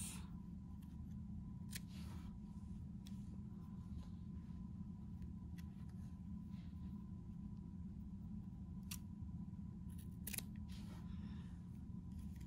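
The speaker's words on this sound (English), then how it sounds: "But I'm choosing to cut my loose strings off." Scissors snipping loose yarn ends off a round woven piece taken from a loom: a few faint, sparse snips spread over a quiet, steady room hum.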